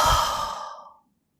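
A single deep exhale from a guided breathing exercise, a loud, breathy sigh that starts strong and fades out smoothly over about a second, then leaves silence.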